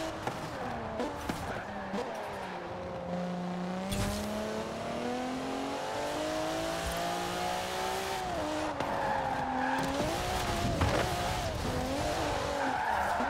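A car in the racing game Forza Horizon 4, during a multiplayer cops-and-robbers chase, revs and shifts through rising and falling engine tones with drawn-out tire squeals and skids, loud and close, with brief impacts.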